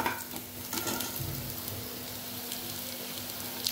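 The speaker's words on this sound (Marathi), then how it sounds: "आता कांदा असं मस्त ब्राऊन झालेला आहे।" Onions fry in a pan while being stirred, a soft continuous sizzle with faint scraping touches, steady and close with no talking.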